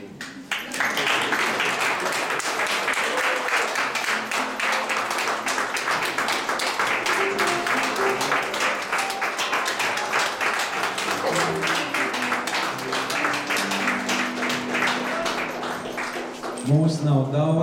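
An audience at the Liepāja annual culture awards applauds the Liepāja theatre actors with sustained, dense clapping that fills the hall for many seconds, with some voices and music mixed in beneath.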